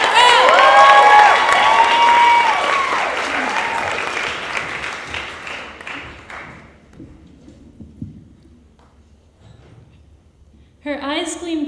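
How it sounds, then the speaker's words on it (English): Audience at a poetry slam clapping and cheering as a poet takes the stage, loud applause with whoops that dies away into near quiet, then a voice begins speaking. "Clap it up."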